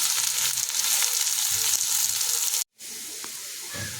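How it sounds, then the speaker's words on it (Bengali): Steady, loud sizzling of potatoes frying in a pan, close up, briefly cut to silence before the hiss resumes. "এবারে আলুগুলো দিয়ে সুন্দর করে একটু আলুটা ভেজে নিতে হবে"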